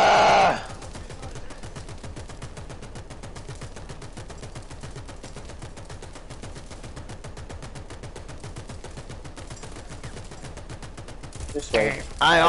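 Long sustained machine gun burst in War Thunder, a rapid, even stream of shots lasting about ten seconds, loud and close, with brief talk at the start and end.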